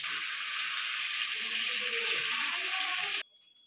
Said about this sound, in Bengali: ঢাকা দিয়ে দিয়ে চিকেনগুলো ভেজে নিচ্ছি